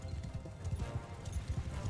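Horse hooves clip-clop in a steady, repeating rhythm in the Mount & Blade II: Bannerlord game, low and moderately loud, with no talk over them.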